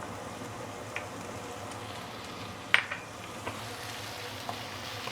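Ginger, garlic, white spring onion and dried chili sauté in heated oil, a soft continuous sizzle with a few faint utensil clicks and taps, no voices.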